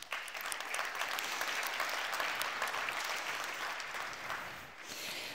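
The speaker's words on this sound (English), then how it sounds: "Please give yourself a round of applause." Steady audience applause, many hands clapping continuously at an even level for several seconds, slightly distant.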